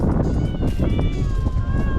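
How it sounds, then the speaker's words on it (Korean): Stray cats on a fishing spot on Geoje Island meow repeatedly, several drawn-out plaintive cries close by over wind and outdoor rumble, with someone talking now and then. "길냥이들이 이거 뭐 주인이 와서 맨날 밥 주는 걸로 생각하고 그냥 아주 야옹야옹 거리네"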